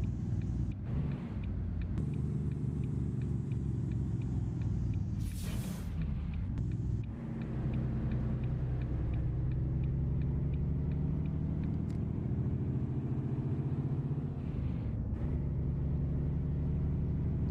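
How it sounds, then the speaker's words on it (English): Truck engine rumble with a Jake brake in American Truck Simulator, a low, steady, throbbing drone that shifts pitch with gear changes, a brief hiss near the middle, no talk. "The more I'm driving this truck, the more I like this Jake brake"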